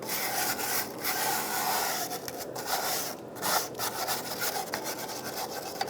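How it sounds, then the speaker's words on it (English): A wire brush scrubs loose debris off the parking brake area of a 2013-2020 Nissan Pathfinder, producing loud, close, rasping back-and-forth strokes in quick irregular bursts, with no one speaking. "use a wire brush, get rid of all of this loose debris"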